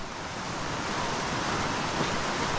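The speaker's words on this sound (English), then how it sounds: "looks like I've got another creek to get across" Steady rushing water from a creek crossing on the Pacific Crest Trail fills the clip, a broad continuous wash of flowing stream noise, close and fairly loud with no voices.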